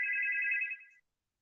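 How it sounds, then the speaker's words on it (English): A phone's electronic ringtone trills steadily and clearly for about a second, then cuts off into silence. "Let me see the phone ringing."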